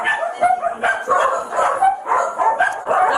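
Many dogs bark and yip inside a house where more than 50 are kept in hazardous conditions, overlapping barks rising in repeated bursts and filling the room close by without pause.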